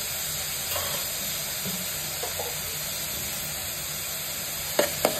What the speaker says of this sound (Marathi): थोडं चांगलं गोल्डन होईपर्यंत परतून घ्यायचंय कांद्याला